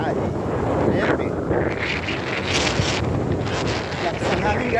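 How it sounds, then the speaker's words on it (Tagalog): Strong wind blowing outdoors, a loud steady roar and rumble buffeting the microphone with fluctuating gusts from start to finish. "Lakas ang hangin guys."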